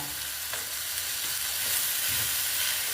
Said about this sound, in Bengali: দিয়ে এবার আবার ঢেঁড়সটাকে আমি নেড়ে চেড়ে নিচ্ছি